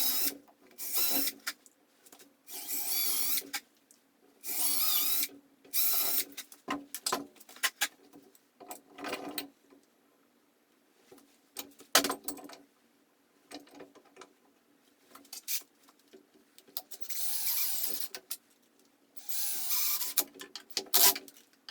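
A power drill drives a 2-inch number 8 Torx deck screw into wood for a leg vise. Short, loud whirring bursts of about a second each repeat irregularly, separated by pauses and light handling clicks.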